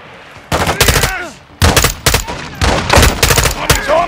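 Loud, close bursts of automatic gunfire in Call of Duty: Modern Warfare 2 come in four or five sharp, rapid clusters separated by short pauses, with shouted voices mixed in.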